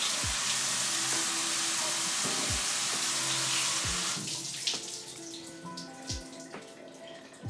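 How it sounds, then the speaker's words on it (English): Water runs steadily from a shower or tap as a broad hiss for the first four seconds, then quiets and thins into lighter splashing and dripping, with a few low thumps along the way. "Showers, and I'm talking about showers right before you go to sleep."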